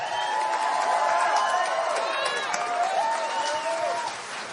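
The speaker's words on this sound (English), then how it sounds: "They're clapping about Obamacare" Crowd of young kids clapping and cheering at a Donald Trump town hall rally in Wausau, Wisconsin, a dense, steady roar of applause and whoops with voices mixed in, easing slightly toward the end.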